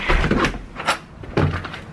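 Front door of a house opening, a close clunk and rattle of the latch and handle followed by a second knock-like thud, with no voices.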